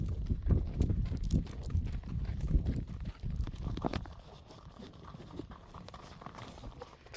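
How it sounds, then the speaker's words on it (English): A horse clip-clops along a state park trail, carrying a rider. Steady hoofbeats sound close and louder at first, then grow softer and more scattered, with no voices. "I'm riding one handed on a horse that wants to be a jerk"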